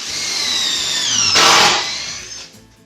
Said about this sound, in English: this I am going to countersink simply because I have to go through a knot